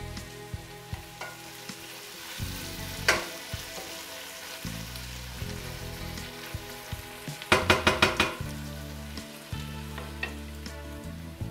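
Vegetables frying in oil left from searing pork cheeks, a steady close sizzle with a run of clinking stirring knocks partway through.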